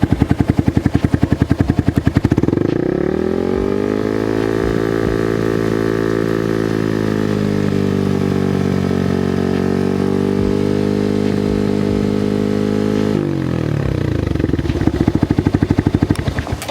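A motorcycle engine idles, then revs up to 5000 RPM and holds a loud, steady high-RPM drone for about ten seconds before dropping back to a rough idle.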